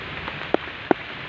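Steady broadband hiss of heavy rain pouring down, with two sharp louder drops or splashes punctuating the downpour.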